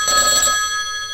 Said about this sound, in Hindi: ये है टेलीफोन।